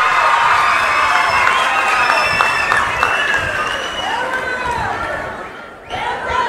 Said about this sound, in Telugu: ఊరంతా అయినపేట గట్టిగా చప్పట్లు కొట్టి హర్షాన్ని వ్యక్తం చేయండి.